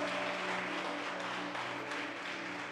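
Applause for the name of Jesus during a church service, a steady wash of many hands clapping at moderate distance, with a low sustained hum underneath throughout.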